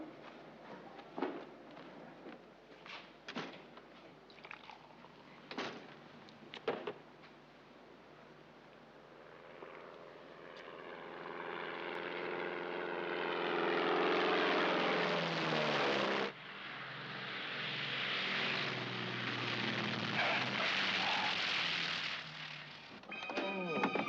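A propeller aircraft engine rises in a film scene: scattered clicks and knocks give way to a building, droning roar with shifting pitch that swells and holds loud near the end.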